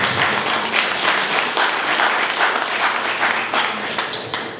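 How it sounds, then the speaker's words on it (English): An audience at a political gathering in Ghana applauds a young man with loud, thick, continuous clapping that holds at a steady level and fades slightly near the end. "Let's give him a clap of applause."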